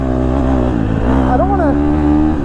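A 2022 KTM 250 SXF four-stroke dirt bike engine revs up and down steadily, close and loud, with the pitch climbing and falling over a couple of seconds.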